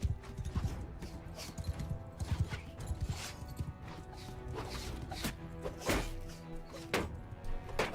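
Horse hooves clip-clop amid the clash of a Mount & Blade Bannerlord battle, with irregular thuds and knocks over a busy, dense game soundscape.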